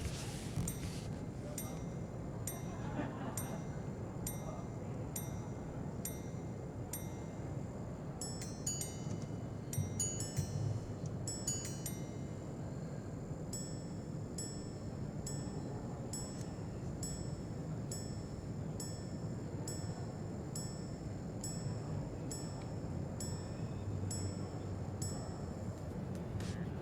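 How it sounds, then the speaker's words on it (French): An Armin Strom Minute Repeater Resonance 1259 watch chimes a run of faint, bright, evenly spaced strikes, with a quicker cluster partway through, over a low background rumble. "la Minute Répétiteur Résonance 1259."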